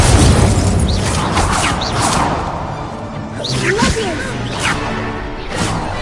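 Incendio fire spell cast in the video game Hogwarts Legacy, a loud whooshing burst with crackling swishes amid busy game effects and music, with a few sharp pops and swells over six seconds.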